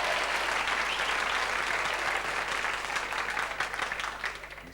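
Studio audience applause on a 1985 television chat show staged aboard the Flying Scotsman, a dense sustained clapping that holds steady for several seconds and then thins slightly toward the end, with no talk over it.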